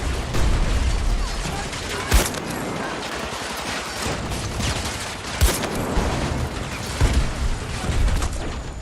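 Grenade explosions and gunfire in the multiplayer shooter Battlefield 2042, with several sharp booms at scattered moments over a dense, continuous battle din.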